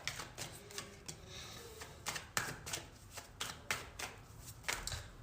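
Tarot cards are shuffled in quick repeated riffling flutters and soft slaps, close and fairly quiet, with no voice heard.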